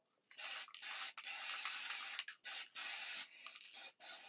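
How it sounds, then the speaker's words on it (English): Several bursts of stencil spray hissing from an aerosol can onto a lampshade, short and long sprays separated by brief pauses, close and fairly loud. "I've got a little bit of stencil spray, my Cadence stencil spray"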